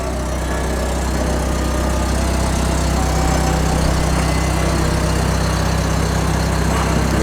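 Car idling with a newly fitted aftermarket exhaust, a loud, steady low rumble held close and constant for the whole stretch with no talk over it.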